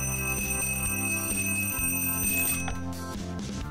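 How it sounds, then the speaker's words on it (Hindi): An alarm clock in a bedroom rings with a sustained, bright, bell-like tone layered over a rhythmic musical backing, with no voices. "अलार्म क्लॉक गहरी नींद से बेदार करने के लिए तैयार है।"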